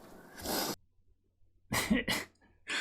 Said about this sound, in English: big sniff, you know it's definitely still me